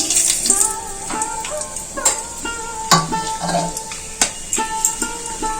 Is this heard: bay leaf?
yes